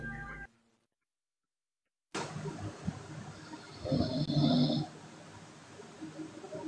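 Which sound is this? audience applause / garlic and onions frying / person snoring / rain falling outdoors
person snoring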